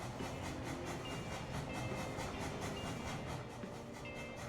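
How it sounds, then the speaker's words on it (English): Loud train in the factory-building game Captain of Industry, a continuous heavy rumble with rhythmic clickety-clack pulses rolling steadily at close range, with no talk over it. "Oh, hello, loud train."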